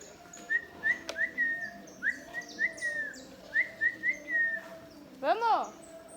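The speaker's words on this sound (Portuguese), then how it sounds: "Aí eu fico assobiando até ela chegar." A person whistles repeatedly on a farm to call dairy cows in, bright rising-falling whistles in short bursts with a louder trilling call near the end, fairly close amid quiet outdoor background.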